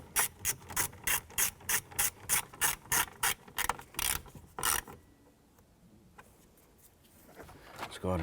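A hand ratchet snugs down screws during a headlight switch replacement on a 1993-1997 Ford Ranger: about fifteen quick, evenly spaced clicking strokes, then a pause with faint handling noises.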